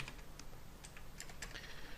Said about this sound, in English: So we start typing solver.